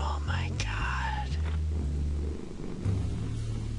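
A cat purrs in the Lone Survivor video game after being fed, a low continuous rumble heard up close alongside soft breathy game sounds and brief higher tones.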